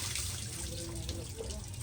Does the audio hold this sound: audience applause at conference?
no